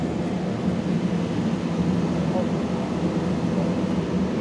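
Steady low engine rumble and hum inside an Indonesian-built N219 aircraft taxiing along the ground, continuous and fairly loud, with faint talk underneath.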